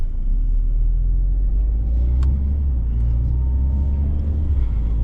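Steady low engine rumble from a Mercedes-AMG GLA45 running at an even pace, loud and close throughout with no voices.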